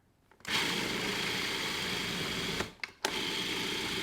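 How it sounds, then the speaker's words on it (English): A blender churns a thick sunflower butter bar mixture, starting abruptly after a brief quiet moment, whirring steadily, then cutting out twice in quick succession before resuming; no talking is heard. "Now we're gonna blend this up."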